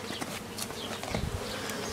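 Honey bees buzz steadily around a pair of recently combined beehives, a dense, continuous drone at close range with no talking.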